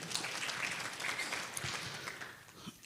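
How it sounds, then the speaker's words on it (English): Applause from a conference audience, a dense wash of clapping that holds steady, then thins out near the end. "Another round of applause for the PGAs"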